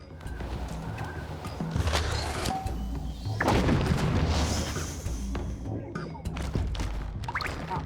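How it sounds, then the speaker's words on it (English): Bombs go off while fighting a boss creature in the Pikmin 4 video game, with booming blasts and crackling bursts over busy game sounds and music, loud and close for several seconds. "The only thing I can do fighting this guy is just give it bombs."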